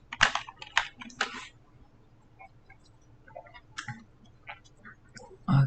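Quick bursts of typing on a computer keyboard, entering a short comment, with scattered lighter key clicks between and a dull thump at the end.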